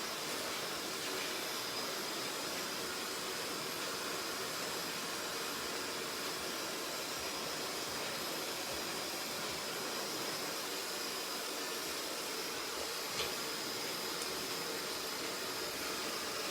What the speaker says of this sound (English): The brush is in my left hand, the blow dryer is in my right.